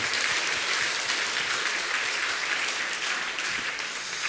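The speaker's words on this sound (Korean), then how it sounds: "다시 한번 축하의 박수를 크게 쳐주시기 바랍니다." A church congregation at a Korean pastor's installation service applauds warmly. Dense, steady clapping fills the room at an even level from start to finish, with no talk over it.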